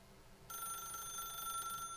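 A telephone rings in The Stanley Parable, starting abruptly after a short quiet moment with a steady bright electronic trill that continues to the end, fairly faint.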